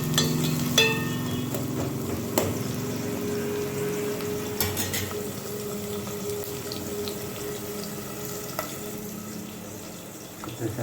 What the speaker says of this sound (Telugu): ఇవి కొంచెం బాగా వేయించుకోవాలి.